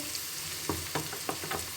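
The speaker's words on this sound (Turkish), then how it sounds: "Bu soğanımız da burada kavruluyor." Thinly chopped onions sizzle and crackle steadily in a pan, with a few brief stir sounds or pops standing out over the frying hiss.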